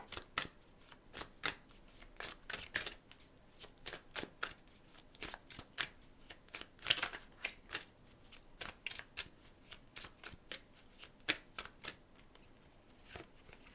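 A Crime Scene Investigation card deck is shuffled repeatedly, with quick crisp riffling bursts and snaps in an uneven rhythm, close and fairly quiet, with no talking.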